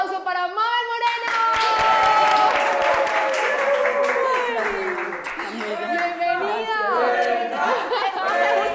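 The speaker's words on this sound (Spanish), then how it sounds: "¡Un fuerte aplauso para Mabel Moreno!" Studio audience applause for a guest on a Colombian talk show, a short burst of clapping quickly overtaken by loud, overlapping talk and cheering voices that continue throughout.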